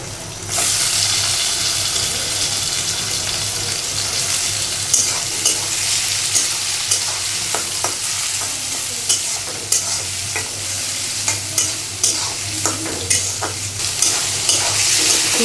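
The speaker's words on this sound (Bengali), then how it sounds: "শুটকি দিয়ে রান্না করব" Dried fish (shutki) frying with mixed vegetables in a pan, a loud steady sizzle throughout with regular clicks and scrapes of a spoon stirring, no voices.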